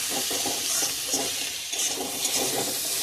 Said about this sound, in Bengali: আরও 2-1 মিনিট নাড়াচাড়া করে কষিয়ে নেব।